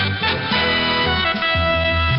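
A short synthesized CBS Radio Net Alert Bulletin jingle, a brief electronic chirp-like motif with sustained tones, clean and close, no talking.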